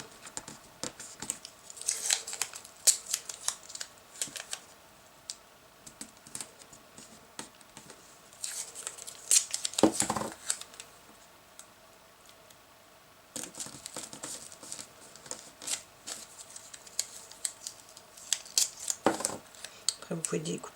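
Scissors snip and trim pieces of tape around resin artwork in a quick series of light, crisp cuts with rustling between, fairly faint and close, while a person talks in French.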